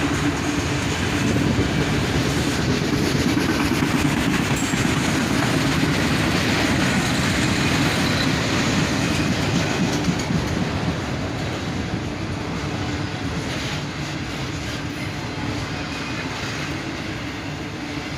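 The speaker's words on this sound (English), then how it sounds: "A single ES44 ACH leads a northbound autorack train on a gloomy Saturday morning." A long northbound CSX autorack freight train led by a single ES44AH locomotive rumbles past at a distance, wheels clattering steadily on the rails, the roar easing slightly toward the end.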